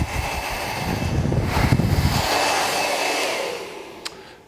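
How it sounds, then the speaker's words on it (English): A handheld hair dryer blows steadily and loudly while finishing long layered hair with a fringe, its airflow roar shifting as the nozzle moves, with a brief clatter near the end. "I'm going to blow dry the remaining hair with the fringe so it all falls back together."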